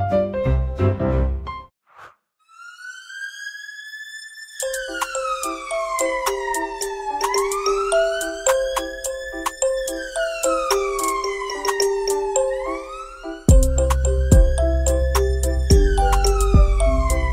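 Rising and falling fire engine siren wails woven through a bright French children's song about firefighters, sweeping repeatedly over steady music and percussion, loud and continuous.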